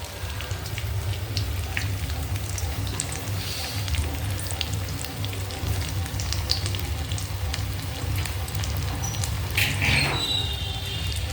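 Rohu fish pieces coated in a lentil besan batter fry in hot oil, giving a steady, dense sizzle and crackle that holds evenly throughout with no talking.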